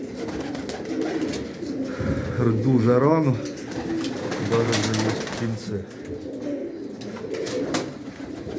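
Old pigeons cooing in a loft, a close throaty rolling coo rising and falling, with someone speaking over and between the calls.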